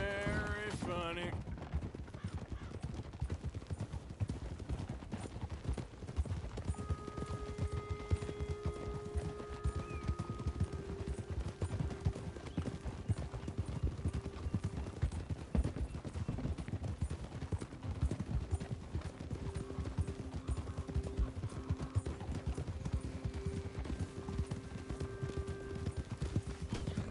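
Horse hooves clip-clop steadily in Red Dead Redemption 2, with an occasional whinny, under ongoing voices and game music for the whole stretch.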